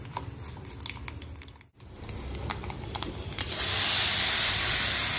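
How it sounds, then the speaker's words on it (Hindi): Mustard seeds, cumin, curry leaves and dried red chillies tempered in hot oil for a chutney, a close crackling sizzle that swells into a loud steady hiss partway through, with no talking. "राई जीरा, कड़ी पत्ता और सूखी लाल मिर्च का तड़का लगाना है।"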